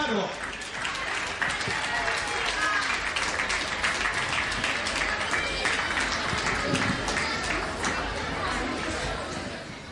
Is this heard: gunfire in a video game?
no